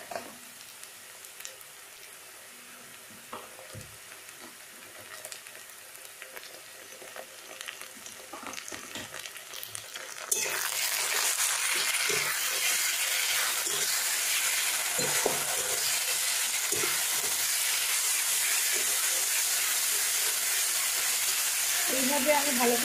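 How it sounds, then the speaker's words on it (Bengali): Mustard, poppy seed, ginger and garlic paste fries with onions for a rohu fish curry. A soft crackle gives way to a loud, steady, close sizzle as the paste hits the hot oil and is stirred. "এইভাবে আমি ভালো করে নাড়িয়ে নেব"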